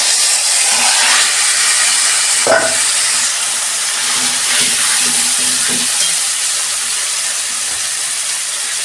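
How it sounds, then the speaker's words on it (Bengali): Taro leaves frying and being stirred in a pan for a Bengali home-style dish with chickpeas and coconut, a steady close sizzle broken by a few spatula scrapes and clinks, with no voices. "এই যে কচু শাকটা দিয়ে দিচ্ছি।"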